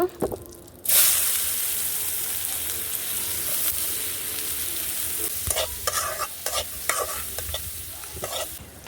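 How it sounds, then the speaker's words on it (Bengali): Chopped onions dropped into hot oil left from frying eggs in a village kitchen give a loud, steady sizzle and hiss with clinks of stirring, a sudden burst as they go in. "এই তেলের মধ্যে আমি কিন্তু এখন পেঁয়াজ দিয়ে দিব"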